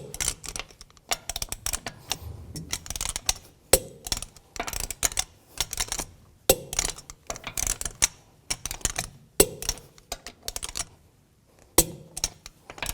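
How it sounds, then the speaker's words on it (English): A torque wrench tightens the lug bolts on a 2006-10 Volkswagen Jetta front wheel to 89 foot-pounds in a cross pattern, giving a few sharp, evenly spaced clicks amid scattered metallic tapping and handling noise, close by. "Now I'm going to torque these lug bolts to 89 foot-pounds in a cross pattern to tighten the wheel"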